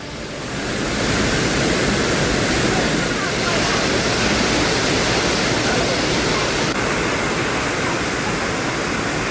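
Hogenakkal waterfall on the Kaveri river gives a loud, dense, unbroken roar of falling water. The rushing noise stays steady for the whole stretch.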